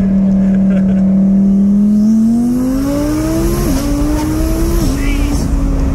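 An Audi TT Mk3 with a stage 2 remap accelerates hard, its engine note climbing steadily through the revs with sharp dips at each gear change, loud and close from inside the car.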